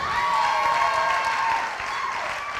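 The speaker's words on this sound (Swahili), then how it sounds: "Mpigeni makofi akija." Audience applause at a music launch event, steady clapping filling the room for a couple of seconds with a faint crowd murmur, tapering slightly toward the end.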